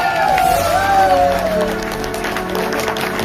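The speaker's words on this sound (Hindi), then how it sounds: "मैं चाहूंगा एक बार जोरदार तरीके से तालियां होनी चाहिए।" A seminar audience in Jaipur claps and cheers in a loud, dense burst of applause, with a few sustained musical tones sounding underneath.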